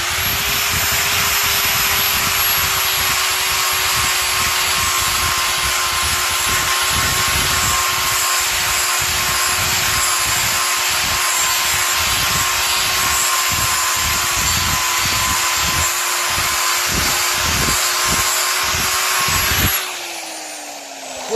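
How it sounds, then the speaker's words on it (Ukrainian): Angle grinder sanding a wooden board outdoors, a loud sustained high-pitched whine with rhythmic scraping pulses as it sweeps the wood, then cutting off near the end. "маю гіркий опит, що з болгарочкою краще не жартувати. Так, шліфуємо таким чином."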